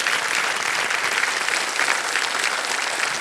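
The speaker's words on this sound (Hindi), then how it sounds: "ताली बज जाए।" Studio audience applause on the Hindi quiz show Kaun Banega Crorepati, Season 16: dense, even, close clapping that fills the room unbroken for several seconds with no voices over it.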